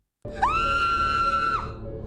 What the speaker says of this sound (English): a woman's scream suddenly came from behind them.